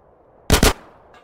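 Two sharp, close gunshots in rapid succession in GTA San Andreas, loud and brief, followed by a short fading tail in a quiet setting.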